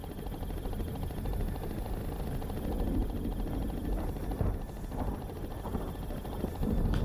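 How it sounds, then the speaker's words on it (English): Helicopter from a Jurassic Park fan-made analog horror series, a steady, dense rotor and engine drone holding at an even level throughout, with faint rustling near the end. "The sound of the chopper is probably frightening her."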